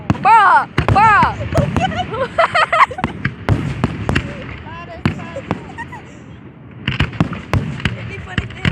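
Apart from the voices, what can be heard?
Fourth of July fireworks show exploding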